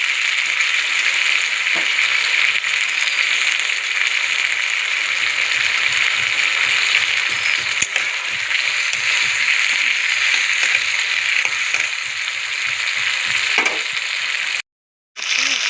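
Chicken bones fry in a pan with a loud, constant sizzle, and stirring adds soft scrapes and clatter throughout. The sound cuts out briefly near the end, and no one speaks.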